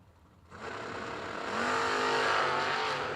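An old Super Gas drag car at a drag strip sits at a low rumble, then its engine surges into a loud, climbing rev that holds near full roar.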